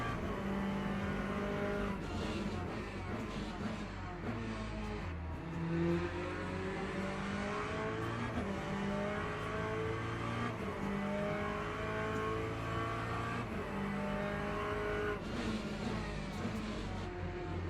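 Race car engine in the Le Mans Ultimate sim at Sebring, loud and continuous, revving up and down through gear changes with brief tire squeal, no talking.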